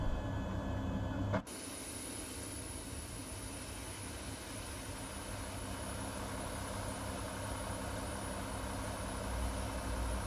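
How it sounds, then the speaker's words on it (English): Boeing 737 MAX 8 jet engines running in a flight simulator game, a steady broad roar with a high whine that holds evenly after an abrupt cut in sound near the start. "Man, those engines sound awesome."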